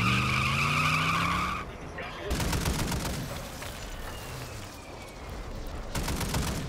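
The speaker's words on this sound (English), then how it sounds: "I'm in a truck" Truck skidding and driving in the Warzone video game, a loud squealing slide at the start followed by rough engine and tyre noise with sharp gunfire-like bursts, under faint background talk.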